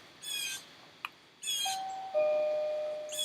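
A two-tone doorbell chime rings out several times in a quiet room, each ding-dong clear and close, with the tones lingering briefly after each press.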